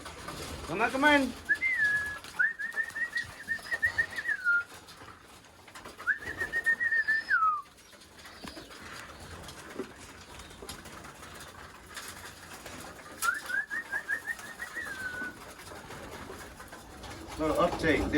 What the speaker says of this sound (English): And then I'm gonna let the birds fly.